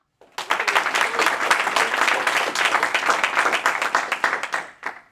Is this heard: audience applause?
yes